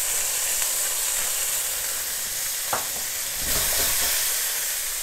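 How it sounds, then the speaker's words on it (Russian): Langoustines sizzling and frying steadily in an oiled pan, a dense close hiss with a brief stir or crackle partway through, no talk. "Жарим по минутке, по полторы с каждой стороны."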